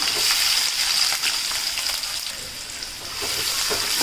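Chopped onion and asafoetida hit hot oil in a pan, a steady, loud, close sizzle and crackle that runs unbroken throughout with no voices.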